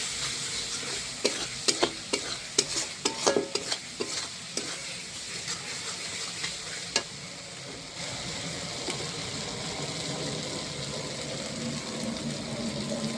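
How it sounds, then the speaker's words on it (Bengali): Spices and turmeric being sautéed in a pan, with steady stirring and a soft sizzle. Sharp scraping clicks come in a burst early on, then the pan settles to a continuous fry. "দিয়ে ভালো করে কষিয়ে নিচ্ছি।"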